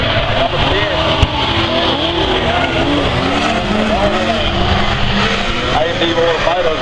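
Super saloon race cars roar around the Taipa circuit in a close nose-to-tail battle, engines loud and continuous with tire noise, while a commentator talks over the racing.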